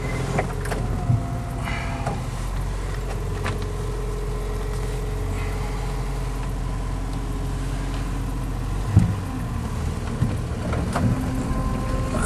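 A Jeep fitted with a snow plow runs steadily through drifted snow at night, its engine a continuous low rumble with a few knocks and clunks rising above it.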